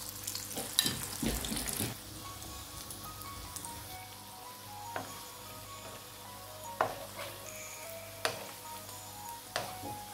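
Onions frying in oil in a home kitchen while iftar is prepared for Ramadan: a steady close crackling sizzle with a few sharper pops and utensil clicks, no talking.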